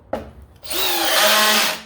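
A Ridgid sub compact drill spins up after a brief tap, then whirs steadily at close range with a high, busy motor whine before winding down.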